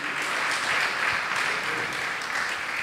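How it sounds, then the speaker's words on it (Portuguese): A church congregation applauds in a steady, full-room clap that stays dense and even from start to finish, with a faint voice underneath. "Quer dar um lindo aplauso?"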